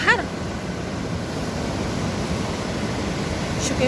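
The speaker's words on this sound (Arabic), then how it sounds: "دابا كيدفع البحر." Sea waves surge in a continuous broadband roar, close and fairly loud, holding steady for a few seconds with no clear break between swells.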